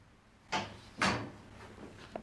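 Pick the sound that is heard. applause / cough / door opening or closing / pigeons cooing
door opening or closing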